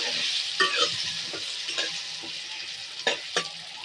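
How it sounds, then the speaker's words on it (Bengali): Pieces of pointed gourd fry in a pan with salt and turmeric, a steady sizzle broken by several sharp spatula scrapes as they are stirred, close and fairly loud with no talking. "লবণ, হলুদ গুঁড়ো নেড়ে চেড়ে মিশিয়ে নেবো।"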